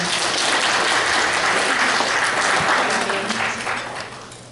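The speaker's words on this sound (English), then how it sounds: "Give him a round of applause" Audience at a golden anniversary party applauding after a musical performance, a thick, sustained wash of clapping from many hands that begins to thin out toward the end.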